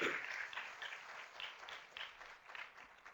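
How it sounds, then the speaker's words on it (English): Audience applause for a panel of speakers at the close of an Ebola discussion evening: steady, moderately distant clapping from a modest crowd that swells at the start and continues unbroken for a few seconds. "Can we give a round of applause to our panelists this evening?"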